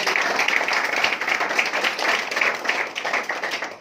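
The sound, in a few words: audience clapping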